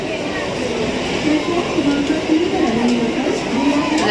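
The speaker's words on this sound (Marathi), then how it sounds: "ही आले ती विरार लोकल आले आहे" A Virar-bound Mumbai suburban local train rumbles and rolls into crowded Dadar station with a steady mechanical drone and faint squealing, nearby and continuous, with a busy ambient background.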